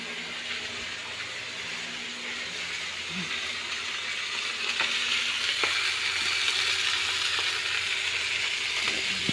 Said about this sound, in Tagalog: Fry milk fish for breakfast.